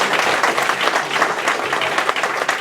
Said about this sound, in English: please give a respectful and humble round of applause for our candidates